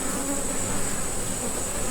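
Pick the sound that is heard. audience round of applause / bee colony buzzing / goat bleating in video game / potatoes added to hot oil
bee colony buzzing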